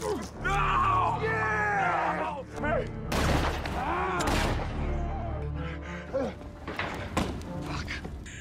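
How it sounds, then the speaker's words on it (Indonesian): Gunfire in a film scene as a man shoots at another fleeing into a cabin: loud, dense bursts of shots and impacts mixed with screams and groans over a dramatic soundtrack. "Carl pun berusaha menembaki Casson yang kabur ke dalam pondok"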